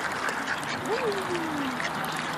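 Ducks at a park pond in the evening quack softly and a little way off over a steady murmur of background noise, with one drawn-out call standing out.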